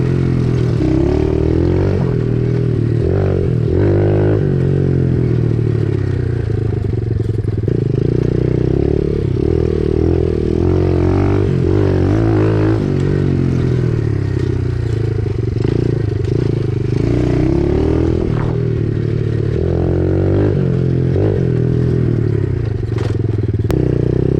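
Pit bike ridden over rutted dirt ground, with a steady buzzing engine under continuous scraping and clattering from the bumps, close and loud throughout.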